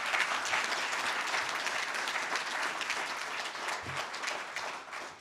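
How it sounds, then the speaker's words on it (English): Audience applause at a facility management association's delegates meeting, a sustained, even roar of clapping from a sizable crowd, fairly distant and steady before thinning slightly at the end. "So that's worthy of a round of applause."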